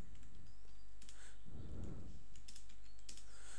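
Steady tapping of keys on a computer keyboard while code is typed, close and moderately quiet over a constant low hum, with no voices.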